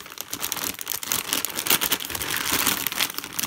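A sealed crinkly plastic bag being handled and rustled up close, a continuous crackling with sharp bursts, steady for a few seconds with no voices.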